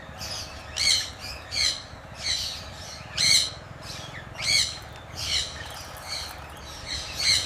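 Sun conure parrots on a breeding farm giving loud, harsh squawking calls in a regular series of repeated shrieks about every second, fairly close, over a faint background hum.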